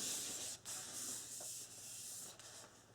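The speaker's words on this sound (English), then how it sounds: "So I'm just burnishing this really well." Glued paper is burnished onto a page of a small Easter scrapbook mini album, a faint, close, soft rubbing hiss continuing with slight dips.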